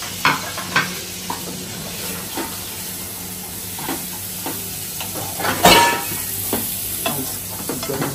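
Upma being stirred in a pan in a home kitchen, with repeated scraping strokes and a soft sizzle running underneath, close by, plus one louder clatter partway through.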